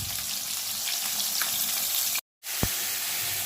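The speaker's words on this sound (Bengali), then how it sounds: "মাছটা লাল লাল করে ভাজবো" Pieces of rui fish fry in a small amount of oil with a steady, crackling sizzle. There is one brief dropout, followed by a light knock of a utensil against the pan.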